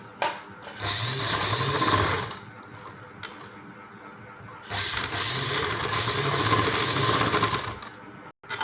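A sewing machine stitches elastic into a pair of pants in two loud, whirring runs separated by a brief quieter pause, close up.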